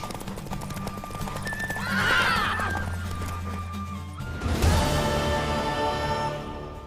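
A horse whinnies loudly over a rhythmic clatter of hooves, followed by a crashing burst and more galloping, all close and busy, in the video game The Witcher 3: Wild Hunt.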